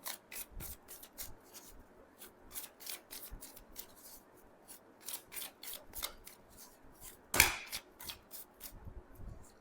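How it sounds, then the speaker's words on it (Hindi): A deck of tarot cards being shuffled by hand, a quick series of crisp riffling and sliding card sounds repeating irregularly, close and fairly quiet, with one louder snap near the end and no talking. "मैं अभी पहले प्रॉपर शफल कर लेती हूँ, उसके बाद में एक एक करके खुद से निकालूंगी।"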